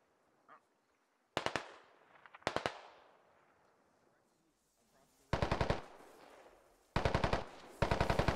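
Automatic gunfire in a military shooter video game, several loud rapid bursts of close machine-gun fire separated by short pauses, with a faint reverberant tail after each burst.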